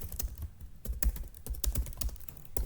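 Fast, irregular clatter of keys on a computer keyboard while writing Python code, close and steady bursts of clicks with no talk over them.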